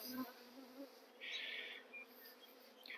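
A close, steady buzzing of many honeybees humming around an opened hive, with one louder pass drifting near for a moment.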